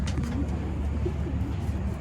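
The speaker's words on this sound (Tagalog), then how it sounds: "Laking ibon." A large pigeon coos in low, soft, throaty notes under steady background noise.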